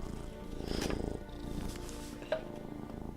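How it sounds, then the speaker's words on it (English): A cat purrs steadily and close by, a low rumbling drone that runs through the whole stretch, with a brief sharper noise near the end. "excuse the purring, the cat has found out that she can just go on my lap"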